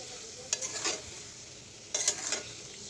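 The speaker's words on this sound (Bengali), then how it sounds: "ইলিশ মাছ আগে ভেজে উঠিয়ে নিয়েছি আর এখন হচ্ছে কুশি বসাই দিয়েছি কষানো" Ridge gourd sautéing in a pan after hilsa fish was fried, a soft steady sizzle broken by two bursts of stirring scrapes about a second and a half apart.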